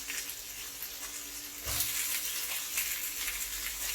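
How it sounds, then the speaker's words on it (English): Crab and prawns frying in a pan, a steady close hiss of sizzling oil that swells briefly louder partway through, with no talking. "you just fry the prawn until it turns red"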